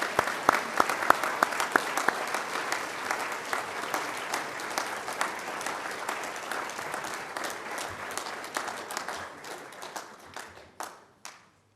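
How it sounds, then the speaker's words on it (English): An audience at a University of Liverpool graduation ceremony applauds steadily for several seconds, the clapping thinning out and fading to a few last claps at the end. "Shall we give an applause for all you have supported?"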